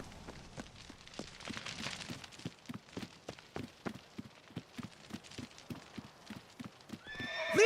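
A horse in The Witcher video game galloping at a steady, even rhythm of close hoofbeats, then a sharp whinny breaking in at the very end, with no speech.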